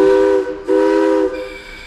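Two long steam locomotive whistle blasts on the Georgetown Loop Railroad with a short gap between them, loud and close, the second trailing off into a fainter rumble.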